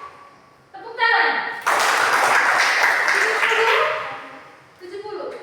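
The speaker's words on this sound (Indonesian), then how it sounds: "Oke, kita berikan tepuk tangan." A class of primary-school children in an Indonesian classroom clap together in a loud, dense burst lasting a few seconds, set between stretches of speech.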